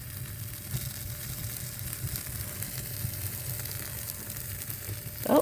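Homemade sawdust fire starters burning with a steady crackle and soft sizzling hiss, continuous and close, rising to a louder burst at the very end; no talking.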